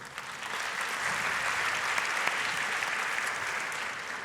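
Sustained applause from a conference audience in Jerusalem, a dense, even wash of many hands clapping at steady loudness throughout, with no voices over it.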